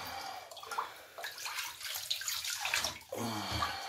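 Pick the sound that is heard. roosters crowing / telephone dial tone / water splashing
water splashing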